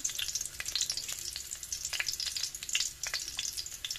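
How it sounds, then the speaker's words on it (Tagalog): Garlic frying in a pan, a continuous bright sizzle and crackle with light spoon stirring strokes, close and fairly quiet, no voices. "antayin natin mag-brown-brown ang bawang"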